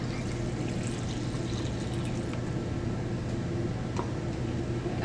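Film developer chemical is poured slowly through a funnel into a developing tank, a steady soft liquid rush that runs continuously at a moderate level.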